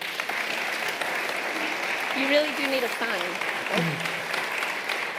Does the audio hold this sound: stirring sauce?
no